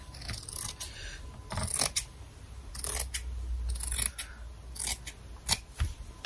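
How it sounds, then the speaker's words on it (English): Scissors snipping through shelf liner at close range, several separate crisp cuts in an uneven rhythm with quiet pauses between, no talking. "I'm gonna get my scissors."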